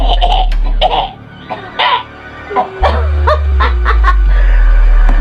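A person coughs several times in short, harsh bursts, close and loud, with brief gaps between the coughs and a low rumble beneath.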